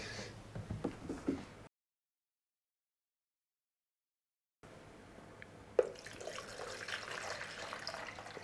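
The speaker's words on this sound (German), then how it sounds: "Gießen jetzt hier wieder 1 Liter Wasser rein." One liter of water is poured into a container for a hydroponic plant setup, a soft, faint splashing that stops for a few seconds of silence and then resumes as a steady, gentle trickle.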